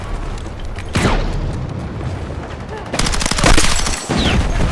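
Gunfire pelts a tank in Battlefield 6, a dense, loud barrage of rapid shots and booming impacts layered over constant battle rumble, intensifying in a heavy burst near the end.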